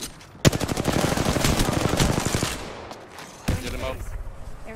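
Rapid automatic gunfire with heavy blasts from an airstrike in a shooter video game, a loud sustained burst of shots followed by a sharp explosive hit, close and dense.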